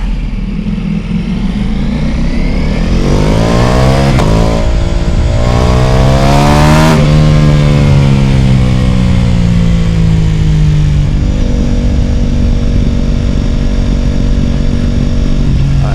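A Ducati Multistrada Pikes Peak with a BT Moto stage 1 upgrade running in sport mode, its engine loud and close, revving up through rising pitch, peaking, then settling into a steady drone as the ride continues.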